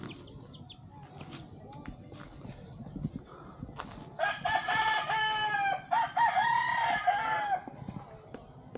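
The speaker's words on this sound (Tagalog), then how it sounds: "Chicken." A rooster crows repeatedly, loud and fairly close, while chickens cluck softly underneath amid low outdoor background noise.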